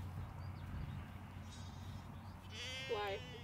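A sheep gives a single clear, wavering bleat near the end, preceded by a low background rumble of an outdoor farm setting; the call is moderately close and stands alone.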